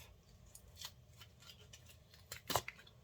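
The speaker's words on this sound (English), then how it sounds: "Sometimes you may need to go back in with the knife, kind of like this one, and get it cut just a little bit extra." A knife slicing through an old rubber golf club grip, with quiet scraping cuts followed by a sharper close snip and rustle near the end, fairly faint against a quiet room.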